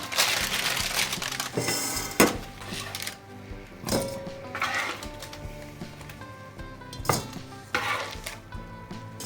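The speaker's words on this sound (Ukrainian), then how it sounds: "викладаємо крила в миску" Cooked chicken wings in honey-coffee sauce are moved into a bowl with utensils, giving irregular clinks, scrapes and knocks of metal against cookware, close and moderately loud, with faint sizzling between them and no voices.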